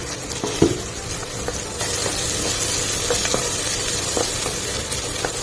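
Onions sizzling with curry leaves in a hot pan, a steady loud frying crackle with a few sharp stirring clinks and taps of a utensil.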